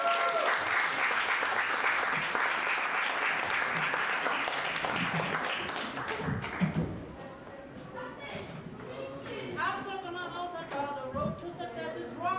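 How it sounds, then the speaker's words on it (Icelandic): Audience applause at a library poetry slam, a dense, steady burst of clapping through the first half that thins out as voices and chatter take over toward the end. "við skulum gefa henni gott klapp"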